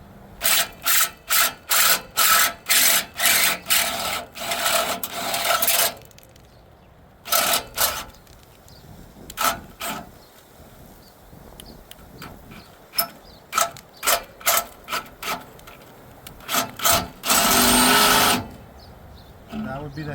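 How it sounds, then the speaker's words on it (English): A step drill bit bores a half-inch hole in the back of a Lincoln Bulldog welder, heard as short, sharp, grinding bursts that start and stop repeatedly, with a longer burst near the end and a voice speaking between them. "See in the back, drill a 1/2 inch hole. So we'll go ahead and do that now. These step bits, take it slowly."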